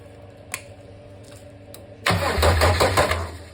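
A Mercedes OM602 2.9 diesel engine on a stand cranks and catches midway, rattling loudly into a rough, clattering run after a quiet stretch of faint clicks.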